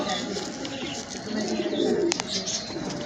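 Soft pigeon cooing close by, low throaty murmurs under faint background noise, with a couple of sharp clicks near the end.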